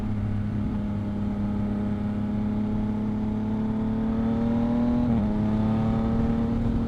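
A Yamaha MT motorcycle engine drones steadily as the throttle opens, its pitch climbing smoothly and briefly dipping near the end, loud and continuous with no voices.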